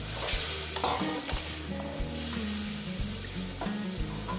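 Mung dal is frying and being stirred after water is added. Steady bubbling sizzle runs under repeated rhythmic scraping strokes of a spoon against the pan, moderately quiet and close.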